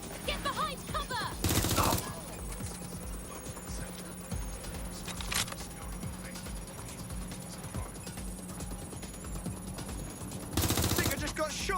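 Gunfire in the video game Watch Dogs Legion: two short, loud bursts of rapid shots, one near the start and one near the end, over steady background game noise.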